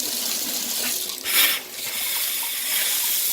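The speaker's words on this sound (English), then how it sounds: "Now we got good water flow and very little coming out of that faucet part." Water running from a bathtub faucet after a tub shower diverter fix, a steady close hiss of flowing water with a brief surge partway through.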